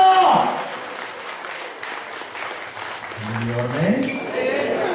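An audience at a Bible retreat talk at Emmaus Retreat Centre, Mallappally, bursts into loud applause that slowly thins into steady clapping, while a voice rises over it near the end.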